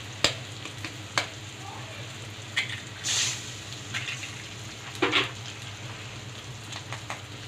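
Eggs cracked into a hot pan for Chettinad egg fry sizzle and crackle steadily up close, with a few sharp spatters and stirring scrapes rising over the continuous frying hiss.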